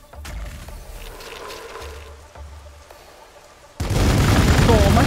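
Gunfire and explosions from the Warhammer 40k: Gladius strategy game sound as several low booms and pops, then a sudden loud burst of dense combat noise, with someone speaking over the game audio.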